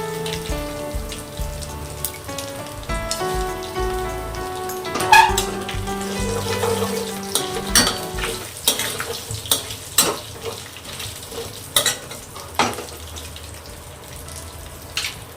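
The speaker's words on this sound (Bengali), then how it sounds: "ওই তেলেই গোটা শুকনো লঙ্কা আর কালো জিরে ফোড়ন দিয়ে দেবো।" Whole dried red chillies and nigella seeds crackle and sizzle as they temper in hot oil, with music playing through the first half and sputtering pops growing more prominent toward the end.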